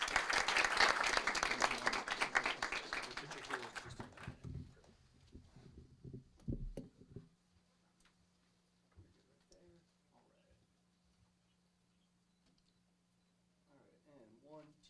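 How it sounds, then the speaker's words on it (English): Audience applause fills a city council meeting chamber, dense and loud for about four seconds before thinning into scattered claps and fading, followed by quiet room tone with faint voices later. "Another round of applause for them."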